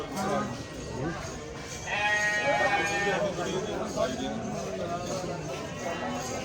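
Goats bleat at the Longowal goat market, one clear drawn-out call rising midway above steady crowd chatter and nearby talking, with general market bustle throughout.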